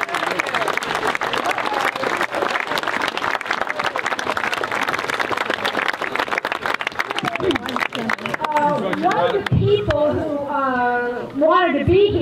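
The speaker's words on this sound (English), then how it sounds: "we can all applaud you." Crowd applause at an outdoor county Democratic Party picnic, steady clapping for about eight seconds before voices take over and talk continues nearby.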